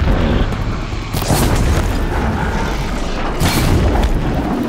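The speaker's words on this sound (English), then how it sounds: "Glorious explosion." A blaze canister on a machine blows up in the video game Horizon Zero Dawn, a loud booming explosion followed by a sustained roaring rumble, with a second surge of blast noise near the end.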